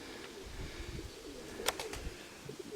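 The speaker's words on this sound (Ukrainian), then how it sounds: "Дуже мені цей голубок подобається" Pigeons in a loft give low, murmuring coos close by, with a brief sharper chirp partway through over a soft background hum.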